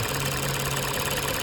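A 2008 Lexus IS250 engine idles steadily with the hood open, a constant low hum and a faint mechanical knock, close by and uninterrupted.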